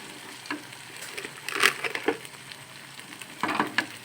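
Chili powder, turmeric and other spices fry in oil for chicken biryani, giving a low, steady sizzle broken by scraping stir strokes and crackling bursts near the start, middle and end.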